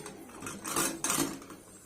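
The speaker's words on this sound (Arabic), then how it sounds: "هنبتدي نحط طاسه فيها حبه زيت، وهنحط فيها معلقه ثوم صغيره" Cooking sounds as a pan with a little oil and a small spoonful of garlic goes onto the stove for Egyptian koshary sauce, with clinks of metal cookware and utensils rising in two bursts over a low hiss, no voices.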